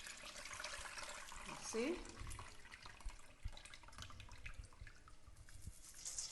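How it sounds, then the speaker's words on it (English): Water drains and trickles through a strainer of sunflower sprouts in an apartment kitchen, a steady wash of running liquid with a brief louder splash, while a person talks over it. "So this is, I strain it."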